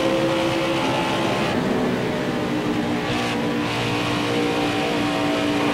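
Stock cars race in the video game NASCAR Heat 5 during an Xfinity Series event, loud sustained engine drone with shifting pitch as cars run close together, and a brief swell of a car passing alongside.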